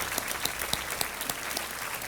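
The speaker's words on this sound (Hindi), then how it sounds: "तालियों के साथ हम स्वागत करते हैं प्रकाश जी का" A TV quiz show studio audience applauds in a steady, dense wash of clapping, with a few sharper claps standing out, continuing throughout at moderate loudness.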